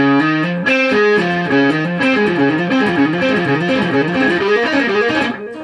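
Distorted electric guitar plays quick, sweep-picked arpeggio runs with string skipping, notes sweeping up and down in a continuous, loud flurry.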